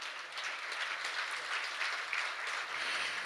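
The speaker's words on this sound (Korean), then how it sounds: "여러분 큰 축하의 박수 부탁드립니다." Steady, moderately distant applause from an audience at a law school anniversary ceremony after a cake cutting, a dense even patter of many hands with no talk over it.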